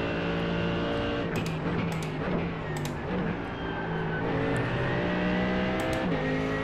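Mercedes race car engine in a racing video game, a loud high-pitched revving whine that climbs and drops through gear changes, with brief tire screeches and other cars nearby.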